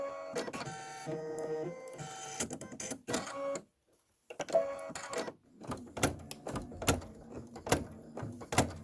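An embroidery machine stitches lighter green thread for husk and leaf detail on a Kimberbell farmhouse project, giving close, loud mechanical chattering and rapid clicking bursts with a brief pause midway, louder when punching through thick layers.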